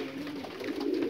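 Domestic pigeons in a loft with nesting eggs coo softly and continuously, a low steady murmur throughout.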